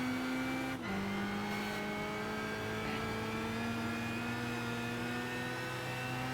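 Car engine in the racing game Gran Turismo 5, a steady droning hum with whining harmonics that dips briefly in pitch and then holds level and loud throughout.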